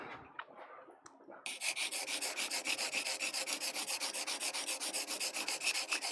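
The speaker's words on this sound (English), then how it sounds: "Trying to show sharpening." A printmaking carving tool is sharpened on a stone with quick, steady back-and-forth rubbing strokes. The rhythm is fast and regular, close and distinct, and it starts after a short quiet lead-in with a few light knocks.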